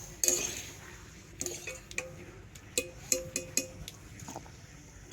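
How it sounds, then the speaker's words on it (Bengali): Boiled jackfruit seeds lifted from water with a strainer, giving a series of faint, sparse metallic clinks and taps against a pot over a quiet kitchen background. "ছাঁকনি দিয়ে এইভাবে কাঁঠাল দানাগুলো জল থেকে তুলে নেব।"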